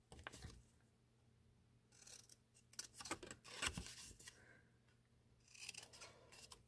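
Scissors snipping at an angle through material, faint close crunchy cuts and rustling in a few short bursts, with no talking.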